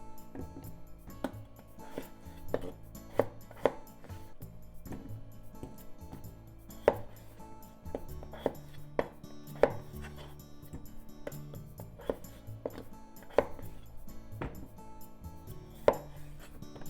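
A knife chops potatoes into bite-sized pieces repeatedly on a cutting board in an irregular rhythm, sharp close taps over a quiet kitchen background.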